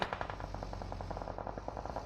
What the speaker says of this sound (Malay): Tembakan headshot ke arah pemain lawan tersebut.